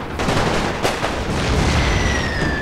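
Cannon fire in the Great War mod for a strategy game rolls as dense, overlapping booms and crackling gunfire, loud and continuous with a low rumbling battlefield backdrop and a thin high whine near the end.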